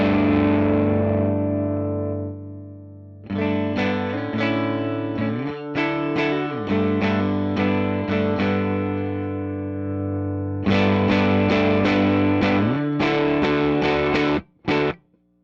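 Electric guitar played through a Matchless The Baby amp on a clean tone, ringing out a long sustained chord, then a series of strummed and picked chords in rhythmic bursts with brief gaps, loud and close, ending in a couple of short stabs.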